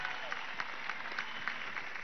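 A crowd at an outdoor education march claps for mothers who prepare school meals, a soft, distant, continuous patter of applause with a few sharper claps standing out.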